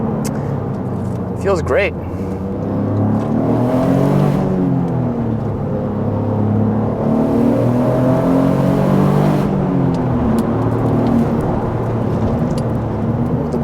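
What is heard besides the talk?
Toyota GR Corolla engine accelerating to redline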